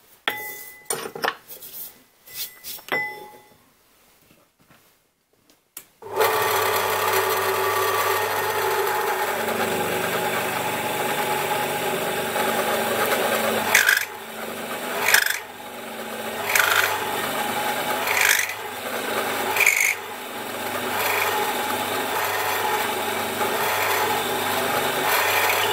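A power drill with a Forstner bit grinds steadily into oak for a long stretch, with rising and falling surges as the bit bites, after a few quieter knocks and handling sounds.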